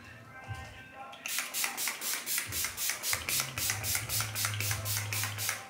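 After a brief quiet start, an Urban Decay makeup setting spray bottle fires in a rapid, even series of short misting bursts, about a dozen close pumps in quick succession.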